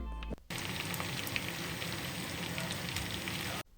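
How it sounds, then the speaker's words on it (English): Steady crackling sizzle of sliced onion and green chilies frying in butter in a hot pan, close and continuous, with no voices. "In a frying pan, I melt some butter and add sliced onion and green chilies."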